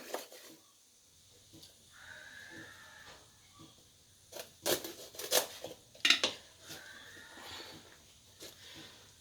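Snake gourd being sliced into rounds with a knife, giving a handful of sharp, irregular tapping cuts against a board amid light handling clatter, close but fairly quiet.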